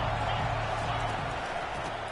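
A football stadium crowd cheers loudly and steadily as second down begins in an Alabama versus South Carolina college game. The roar is dense and unbroken, with a voice faintly under it.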